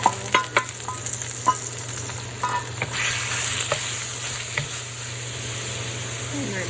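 Minced meat stir-fries in a hot wok with ginger slices for mapo tofu, a steady loud sizzle with sharp clanks of the spatula against the pan near the start.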